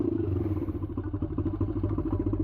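A YCF 125 dirt bike engine runs with a steady, throbbing idle and fast pulsing beats, loud and close, with no talk over it.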